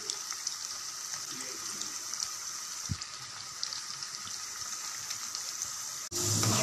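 Ladies finger (okra) frying in hot oil for a hotel-style fry, a steady close hiss and crackle that runs continuously, with a brief knock partway through and a louder shift just before the end.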